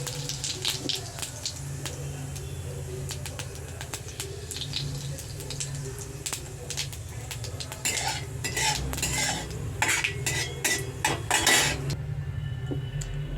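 Cumin seeds sizzle in hot oil for tempering, alongside dried red chilli, with steady spoon scraping and clinks against the pan over a continuous frying hiss, no talking.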